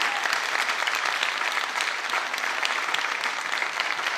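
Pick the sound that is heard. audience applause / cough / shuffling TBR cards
audience applause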